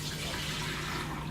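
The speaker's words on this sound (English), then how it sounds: "Fill beakers halfway with tap water." Tap water runs steadily into a beaker of a small ultrasonic denture cleaner, a continuous faint hiss of filling liquid.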